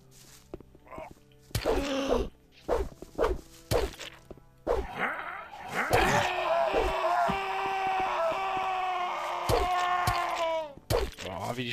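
Creatures in the video game Gothic let out a series of short thwacking cries and grunts, then a long, loud sustained scream, with sparse game effects around it.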